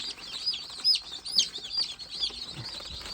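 A young Gavran desi hen chick gives sharp, high peeping calls in uneven bursts, close by, with soft rustling beneath and no talking.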